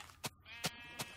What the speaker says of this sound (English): Got a couple white sheep